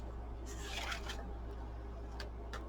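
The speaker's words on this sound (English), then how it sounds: "Sorry, I know those scissors are loud." Several quick, crisp snipping bursts of scissors cutting, close by, against a steady low hum, with short gaps between cuts.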